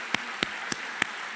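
Sparse, slow claps at a medical school white coat ceremony ring out in a reverberant hall, four distinct hits over a soft wash of room noise with no talking.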